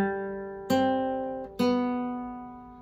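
Guitar notes plucked slowly and cleanly, the opening phrase of Happy Birthday: a held note, then two more picked attacks, each ringing and decaying in a quiet room.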